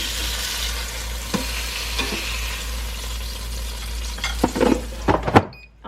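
A burger patty sizzles steadily in a pan after being flipped, a broad constant hiss with a few utensil knocks and scrapes near the end.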